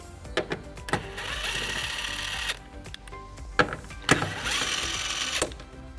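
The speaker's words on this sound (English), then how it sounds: "Now this exposes two bolts that we're going to remove using a 10mm socket." Tail light bolts on a 2021 or later Nissan Rogue being loosened with a 10mm socket, with sharp ratchet clicks and metallic taps alongside stretches of whirring tool noise, close and moderately loud, no talking.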